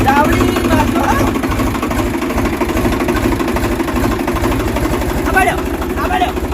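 A tractor engine runs steadily at idle throughout, a close, loud low-pitched rhythmic chugging, with people talking briefly over it.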